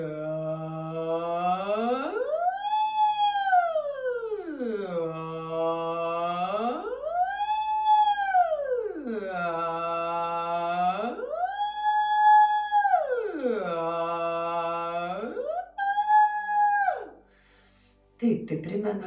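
A human voice imitates an ambulance siren as a vocal exercise, singing smooth glides that climb from low to high pitch and fall back again, repeated about five times in a steady, wavering rhythm, close and clear.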